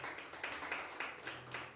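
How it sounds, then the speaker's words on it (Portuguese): Church congregation applauding during a Portuguese-language worship service, rhythmic steady clapping at a moderate distance, faint and even, with no other sounds over it. "Tome o seu assento, aplaudindo ao Senhor"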